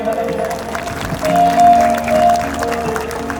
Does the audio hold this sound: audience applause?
yes